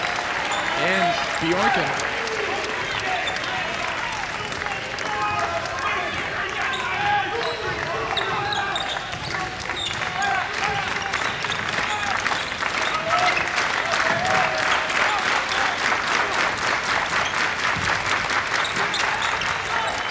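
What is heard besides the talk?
crowd applause at a basketball game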